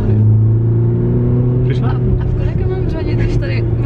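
A 370-horsepower car's engine hums with a steady heavy rumble from inside the cabin, rising slightly as the throttle is pressed, while people talk over the loud drone.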